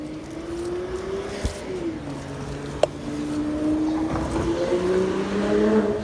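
Cars drive past on a city street, their engines rising and falling as they approach and recede, over steady traffic rumble.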